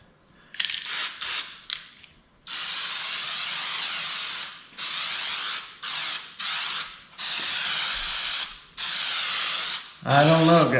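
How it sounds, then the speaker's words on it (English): A spray paint can hisses onto a chair in a series of short and longer bursts separated by brief pauses, loud and close, followed by a sharp rattle at the end. "See if it sprays."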